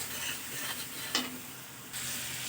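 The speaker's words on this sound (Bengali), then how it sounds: "মশলাটাকে আমি আস্তে আস্তে কষাবো, যতক্ষণ না মশলা থেকে তেল থাকে ততক্ষণ আমি মশলাটাকে কষাতে থাকবো।" Masala spice paste for a Bengali fish curry with potato and eggplant being slowly stirred and fried in oil in a pan, a steady close sizzle with a spatula scrape near the middle and no voices.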